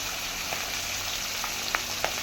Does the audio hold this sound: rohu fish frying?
yes